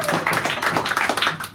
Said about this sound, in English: give Brett another little bit of applause there